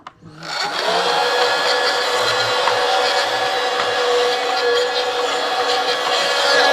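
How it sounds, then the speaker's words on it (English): A vacuum cleaner starts up with a brief click and rising whine, then runs loudly and steadily, close by, with a constant droning roar. "Hold on, vacuum."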